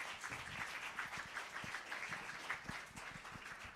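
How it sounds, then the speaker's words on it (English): Audience applauding an official guest at a media launch, a steady dense wash of clapping held at an even level for the full stretch, fairly distant and unbroken. "Can we give Her Excellency another round of applause, please?"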